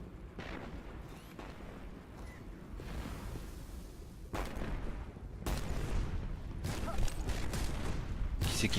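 Gunfire during a final boss fight in the video game Destiny comes as rough, booming bursts and volleys over a constant bed of game noise, with sudden loud surges.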